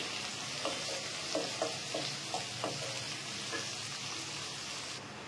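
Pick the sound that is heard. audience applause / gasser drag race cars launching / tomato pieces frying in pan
tomato pieces frying in pan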